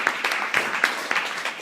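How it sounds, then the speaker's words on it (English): Audience applause for guests joining a panel discussion, a brief burst of many hands clapping with sharp individual claps standing out close by. "come a round of applause"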